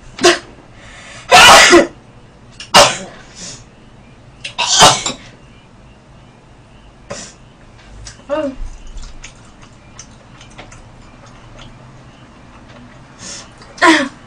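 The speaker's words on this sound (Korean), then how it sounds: "아, 잠깐만 재채기 나왔거든." A sneeze during a Korean mukbang eating show, one loud close burst followed by sniffs, throat sounds and quieter eating noises, with talking in between.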